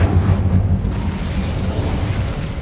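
An Incendio fire spell cast in Hogwarts Legacy erupts as a loud, continuous fiery whoosh and rumble that fills the whole moment with no voices over it.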